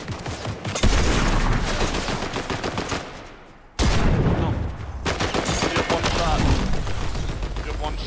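Loud, rapid bursts of close-range shotgun fire in Fortnite Zero Builds, a dense volley that breaks off briefly and then resumes, with game effects beneath and players talking over it.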